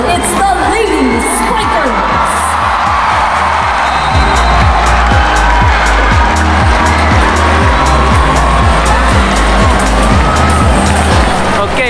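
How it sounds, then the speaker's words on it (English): A big crowd cheers and whoops nonstop at a UAAP women's La Salle vs Ateneo game as the teams come on, with loud, dense roaring over a steady, rhythmic low thumping throughout. "the crowd is going wild, people"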